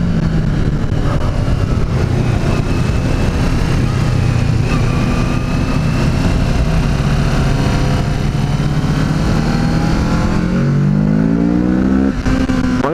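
A Kawasaki Z650 motorcycle engine revs and accelerates hard, its pitch climbing steadily and loudly with rising harmonics, then shifting gear near the end.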